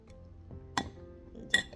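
Ingredients for a viral Japanese cheesecake dessert being mixed in a small glass jar, giving two sharp, close clinks about three quarters of a second apart over a quiet background.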